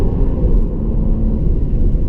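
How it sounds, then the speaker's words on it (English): A 2016 Jaguar XE S with a 250kW supercharged V6 accelerates hard in third gear from about 60 km/h, heard from inside the cabin as a loud, steady, deep engine rumble with no voices. "in third gear you can floor it and you can feel that surge in your back"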